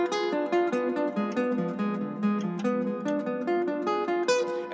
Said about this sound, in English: my first sequence is melodic